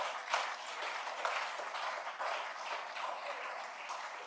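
An audience applauds at an international ECOWAS conference, a continuous dense wash of clapping at moderate level with small surges, no voices over it.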